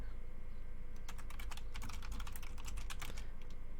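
Someone types in quick irregular bursts of clicky keystrokes on a computer keyboard near the microphone while setting up an online racing game lobby. A low steady room hum runs underneath, and nobody speaks.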